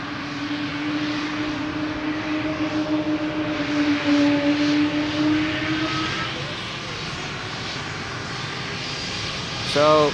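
A brand-new Embraer 195 E2 airliner at Amsterdam Schiphol Airport, its jet engines giving a steady, droning roar that holds through the whole stretch, with faint talk underneath.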